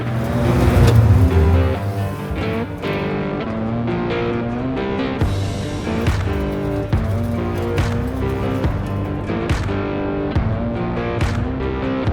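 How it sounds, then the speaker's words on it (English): A rebuilt Porsche 997 911 Turbo pulls hard under boost, its engine a loud, steady drone with strong layered harmonics that holds close and continuous throughout, with no talking. "getting the car into some boost for the first time"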